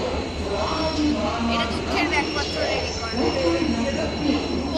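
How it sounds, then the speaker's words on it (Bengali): A train rumbles at a railway station in Siliguri with a steady low drone, faint wheel squeal and murmuring crowd voices throughout. "দেখো স্টেশনে এখন বসে আছি"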